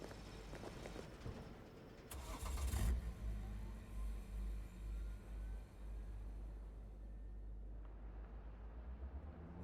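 A car in a video game starts up with a brief burst, then its engine hums and revs at a low, fairly quiet level, rising and falling as it drives off.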